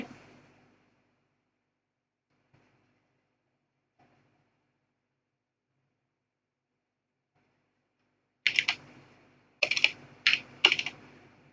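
Keys clatter on a computer keyboard as a business registration form is filled in, short bursts of quick typing after a long near-silent stretch, close and fairly quiet.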